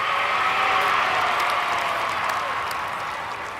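Crowds lining the streets clap and cheer for Queen Elizabeth, a dense wash of applause and distant voices that fades slightly toward the end.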